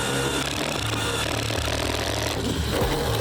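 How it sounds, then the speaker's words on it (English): A power drill with a 5/8-inch bit boring a hole for half-inch bolts on a ranch, a continuous loud grinding whir with shifting pitch that holds steady for several seconds. "Got a little 5/8 drill bit for our 1/2-inch bolts."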